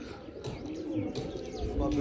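Pigeons coo softly in a loft, low murmuring calls repeating over a busy background, close by and moderately loud, with some chirps mixed in.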